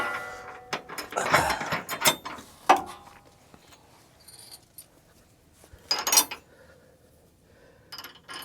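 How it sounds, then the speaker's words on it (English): A lock washer and nut are tightened onto a B&W gooseneck ball hitch under a 2017-2022 Ford F-350, giving close ratcheting clicks in quick bursts with metallic clinks and pauses between them. "I'm gonna put the lock washer and nut on again"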